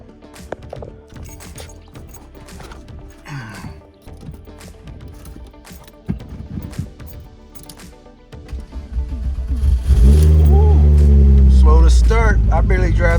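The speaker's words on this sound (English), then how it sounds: "Let's get a little cold start action on here." An Audi A6 C7 engine cold-starts and runs loud and close, with the roar building steadily and swelling into strong revving toward the end, while a person talks over the early part.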